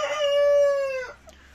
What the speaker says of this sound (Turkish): Şu horoz arkadaşlar